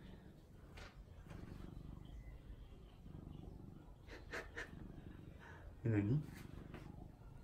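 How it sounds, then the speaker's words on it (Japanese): A cat purrs up close indoors, a soft steady low rumble running under quiet conversation between two people. "めっちゃゴロゴロ言うてるし"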